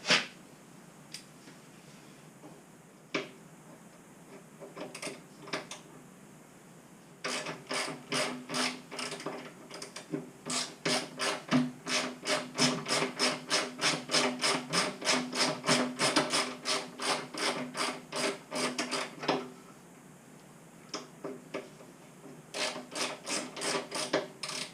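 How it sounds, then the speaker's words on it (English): A 6mm Allen wrench ratchets in rapid clicking bursts while loosening metric bolts on a 2018 Indian Scout Bobber motorcycle, close and crisp, with quieter stretches between runs of clicks. "you're gonna need a 6mm Allen wrench to take these bolts off"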